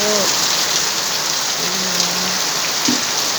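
Heavy rain pours down in a dense, unbroken hiss, steady and close, with faint tonal sounds drifting briefly underneath.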